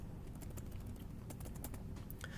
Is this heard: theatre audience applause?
no